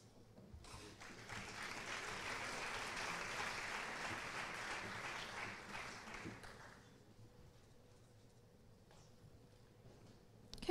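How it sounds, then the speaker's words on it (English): Loud crowd applause at a 4-H awards ceremony honoring scholarship winners, a dense sustained clapping that swells for several seconds, then thins out and fades to a quieter room tail. "Let's give them all another round of applause"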